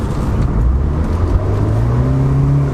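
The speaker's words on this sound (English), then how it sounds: "coming up to a tight corner, let's see how the Sky Redline handles it" A 2007 Saturn Sky Red Line drives into a tight corner, its engine a loud, close drone whose pitch rises steadily as it pulls through, with no talking.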